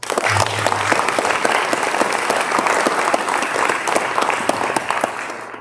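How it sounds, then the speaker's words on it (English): Audience members at a city's annual State of the City address applaud the finance department with sustained, full clapping that stays strong and even throughout, crisp individual claps standing out over the steady roar. "Give them a round of applause."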